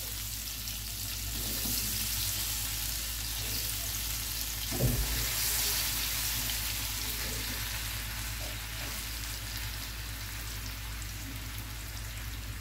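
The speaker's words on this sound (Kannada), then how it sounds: "ಅದೆಲ್ಲ ಹಸಿ ವಾಸನೆ ಎಲ್ಲ ಮಸಾಲದ್ದೆಲ್ಲ ಹೋಗುವವರೆಗೆ 1-2 ನಿಮಿಷ ಇದನ್ನು ಫ್ರೈ ಮಾಡಿ ನಾವು ತೆಗೆದಿಡುವ." Marinated mushroom tikka fries in a pan over a gas flame, giving a steady, close sizzle throughout with a brief utensil clatter about midway.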